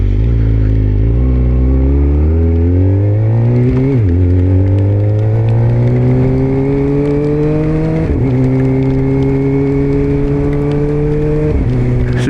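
A race car engine revs hard through repeated upshifts with a sequential shifter while overtaking, each gear change cutting the rising pitch in a quick drop, loud and continuous with no talk.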